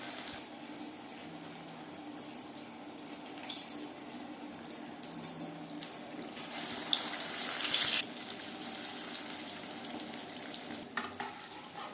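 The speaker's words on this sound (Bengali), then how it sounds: "চপ ভাজবো মিডিয়াম ফ্লেমে" Batter-dipped paneer chops frying in hot oil over a medium flame, a steady hissing sizzle with scattered pops that swells into a louder burst midway, then settles back to a gentle crackle.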